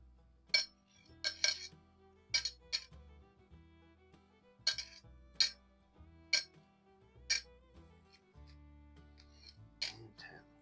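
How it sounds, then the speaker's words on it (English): Airgun pellets dropped one at a time into a metal can lid, a series of sharp metallic clinks at irregular intervals, some in quick pairs, close and isolated in a quiet room. "Let me get a can lid here to put the pellets in so I don't lose count."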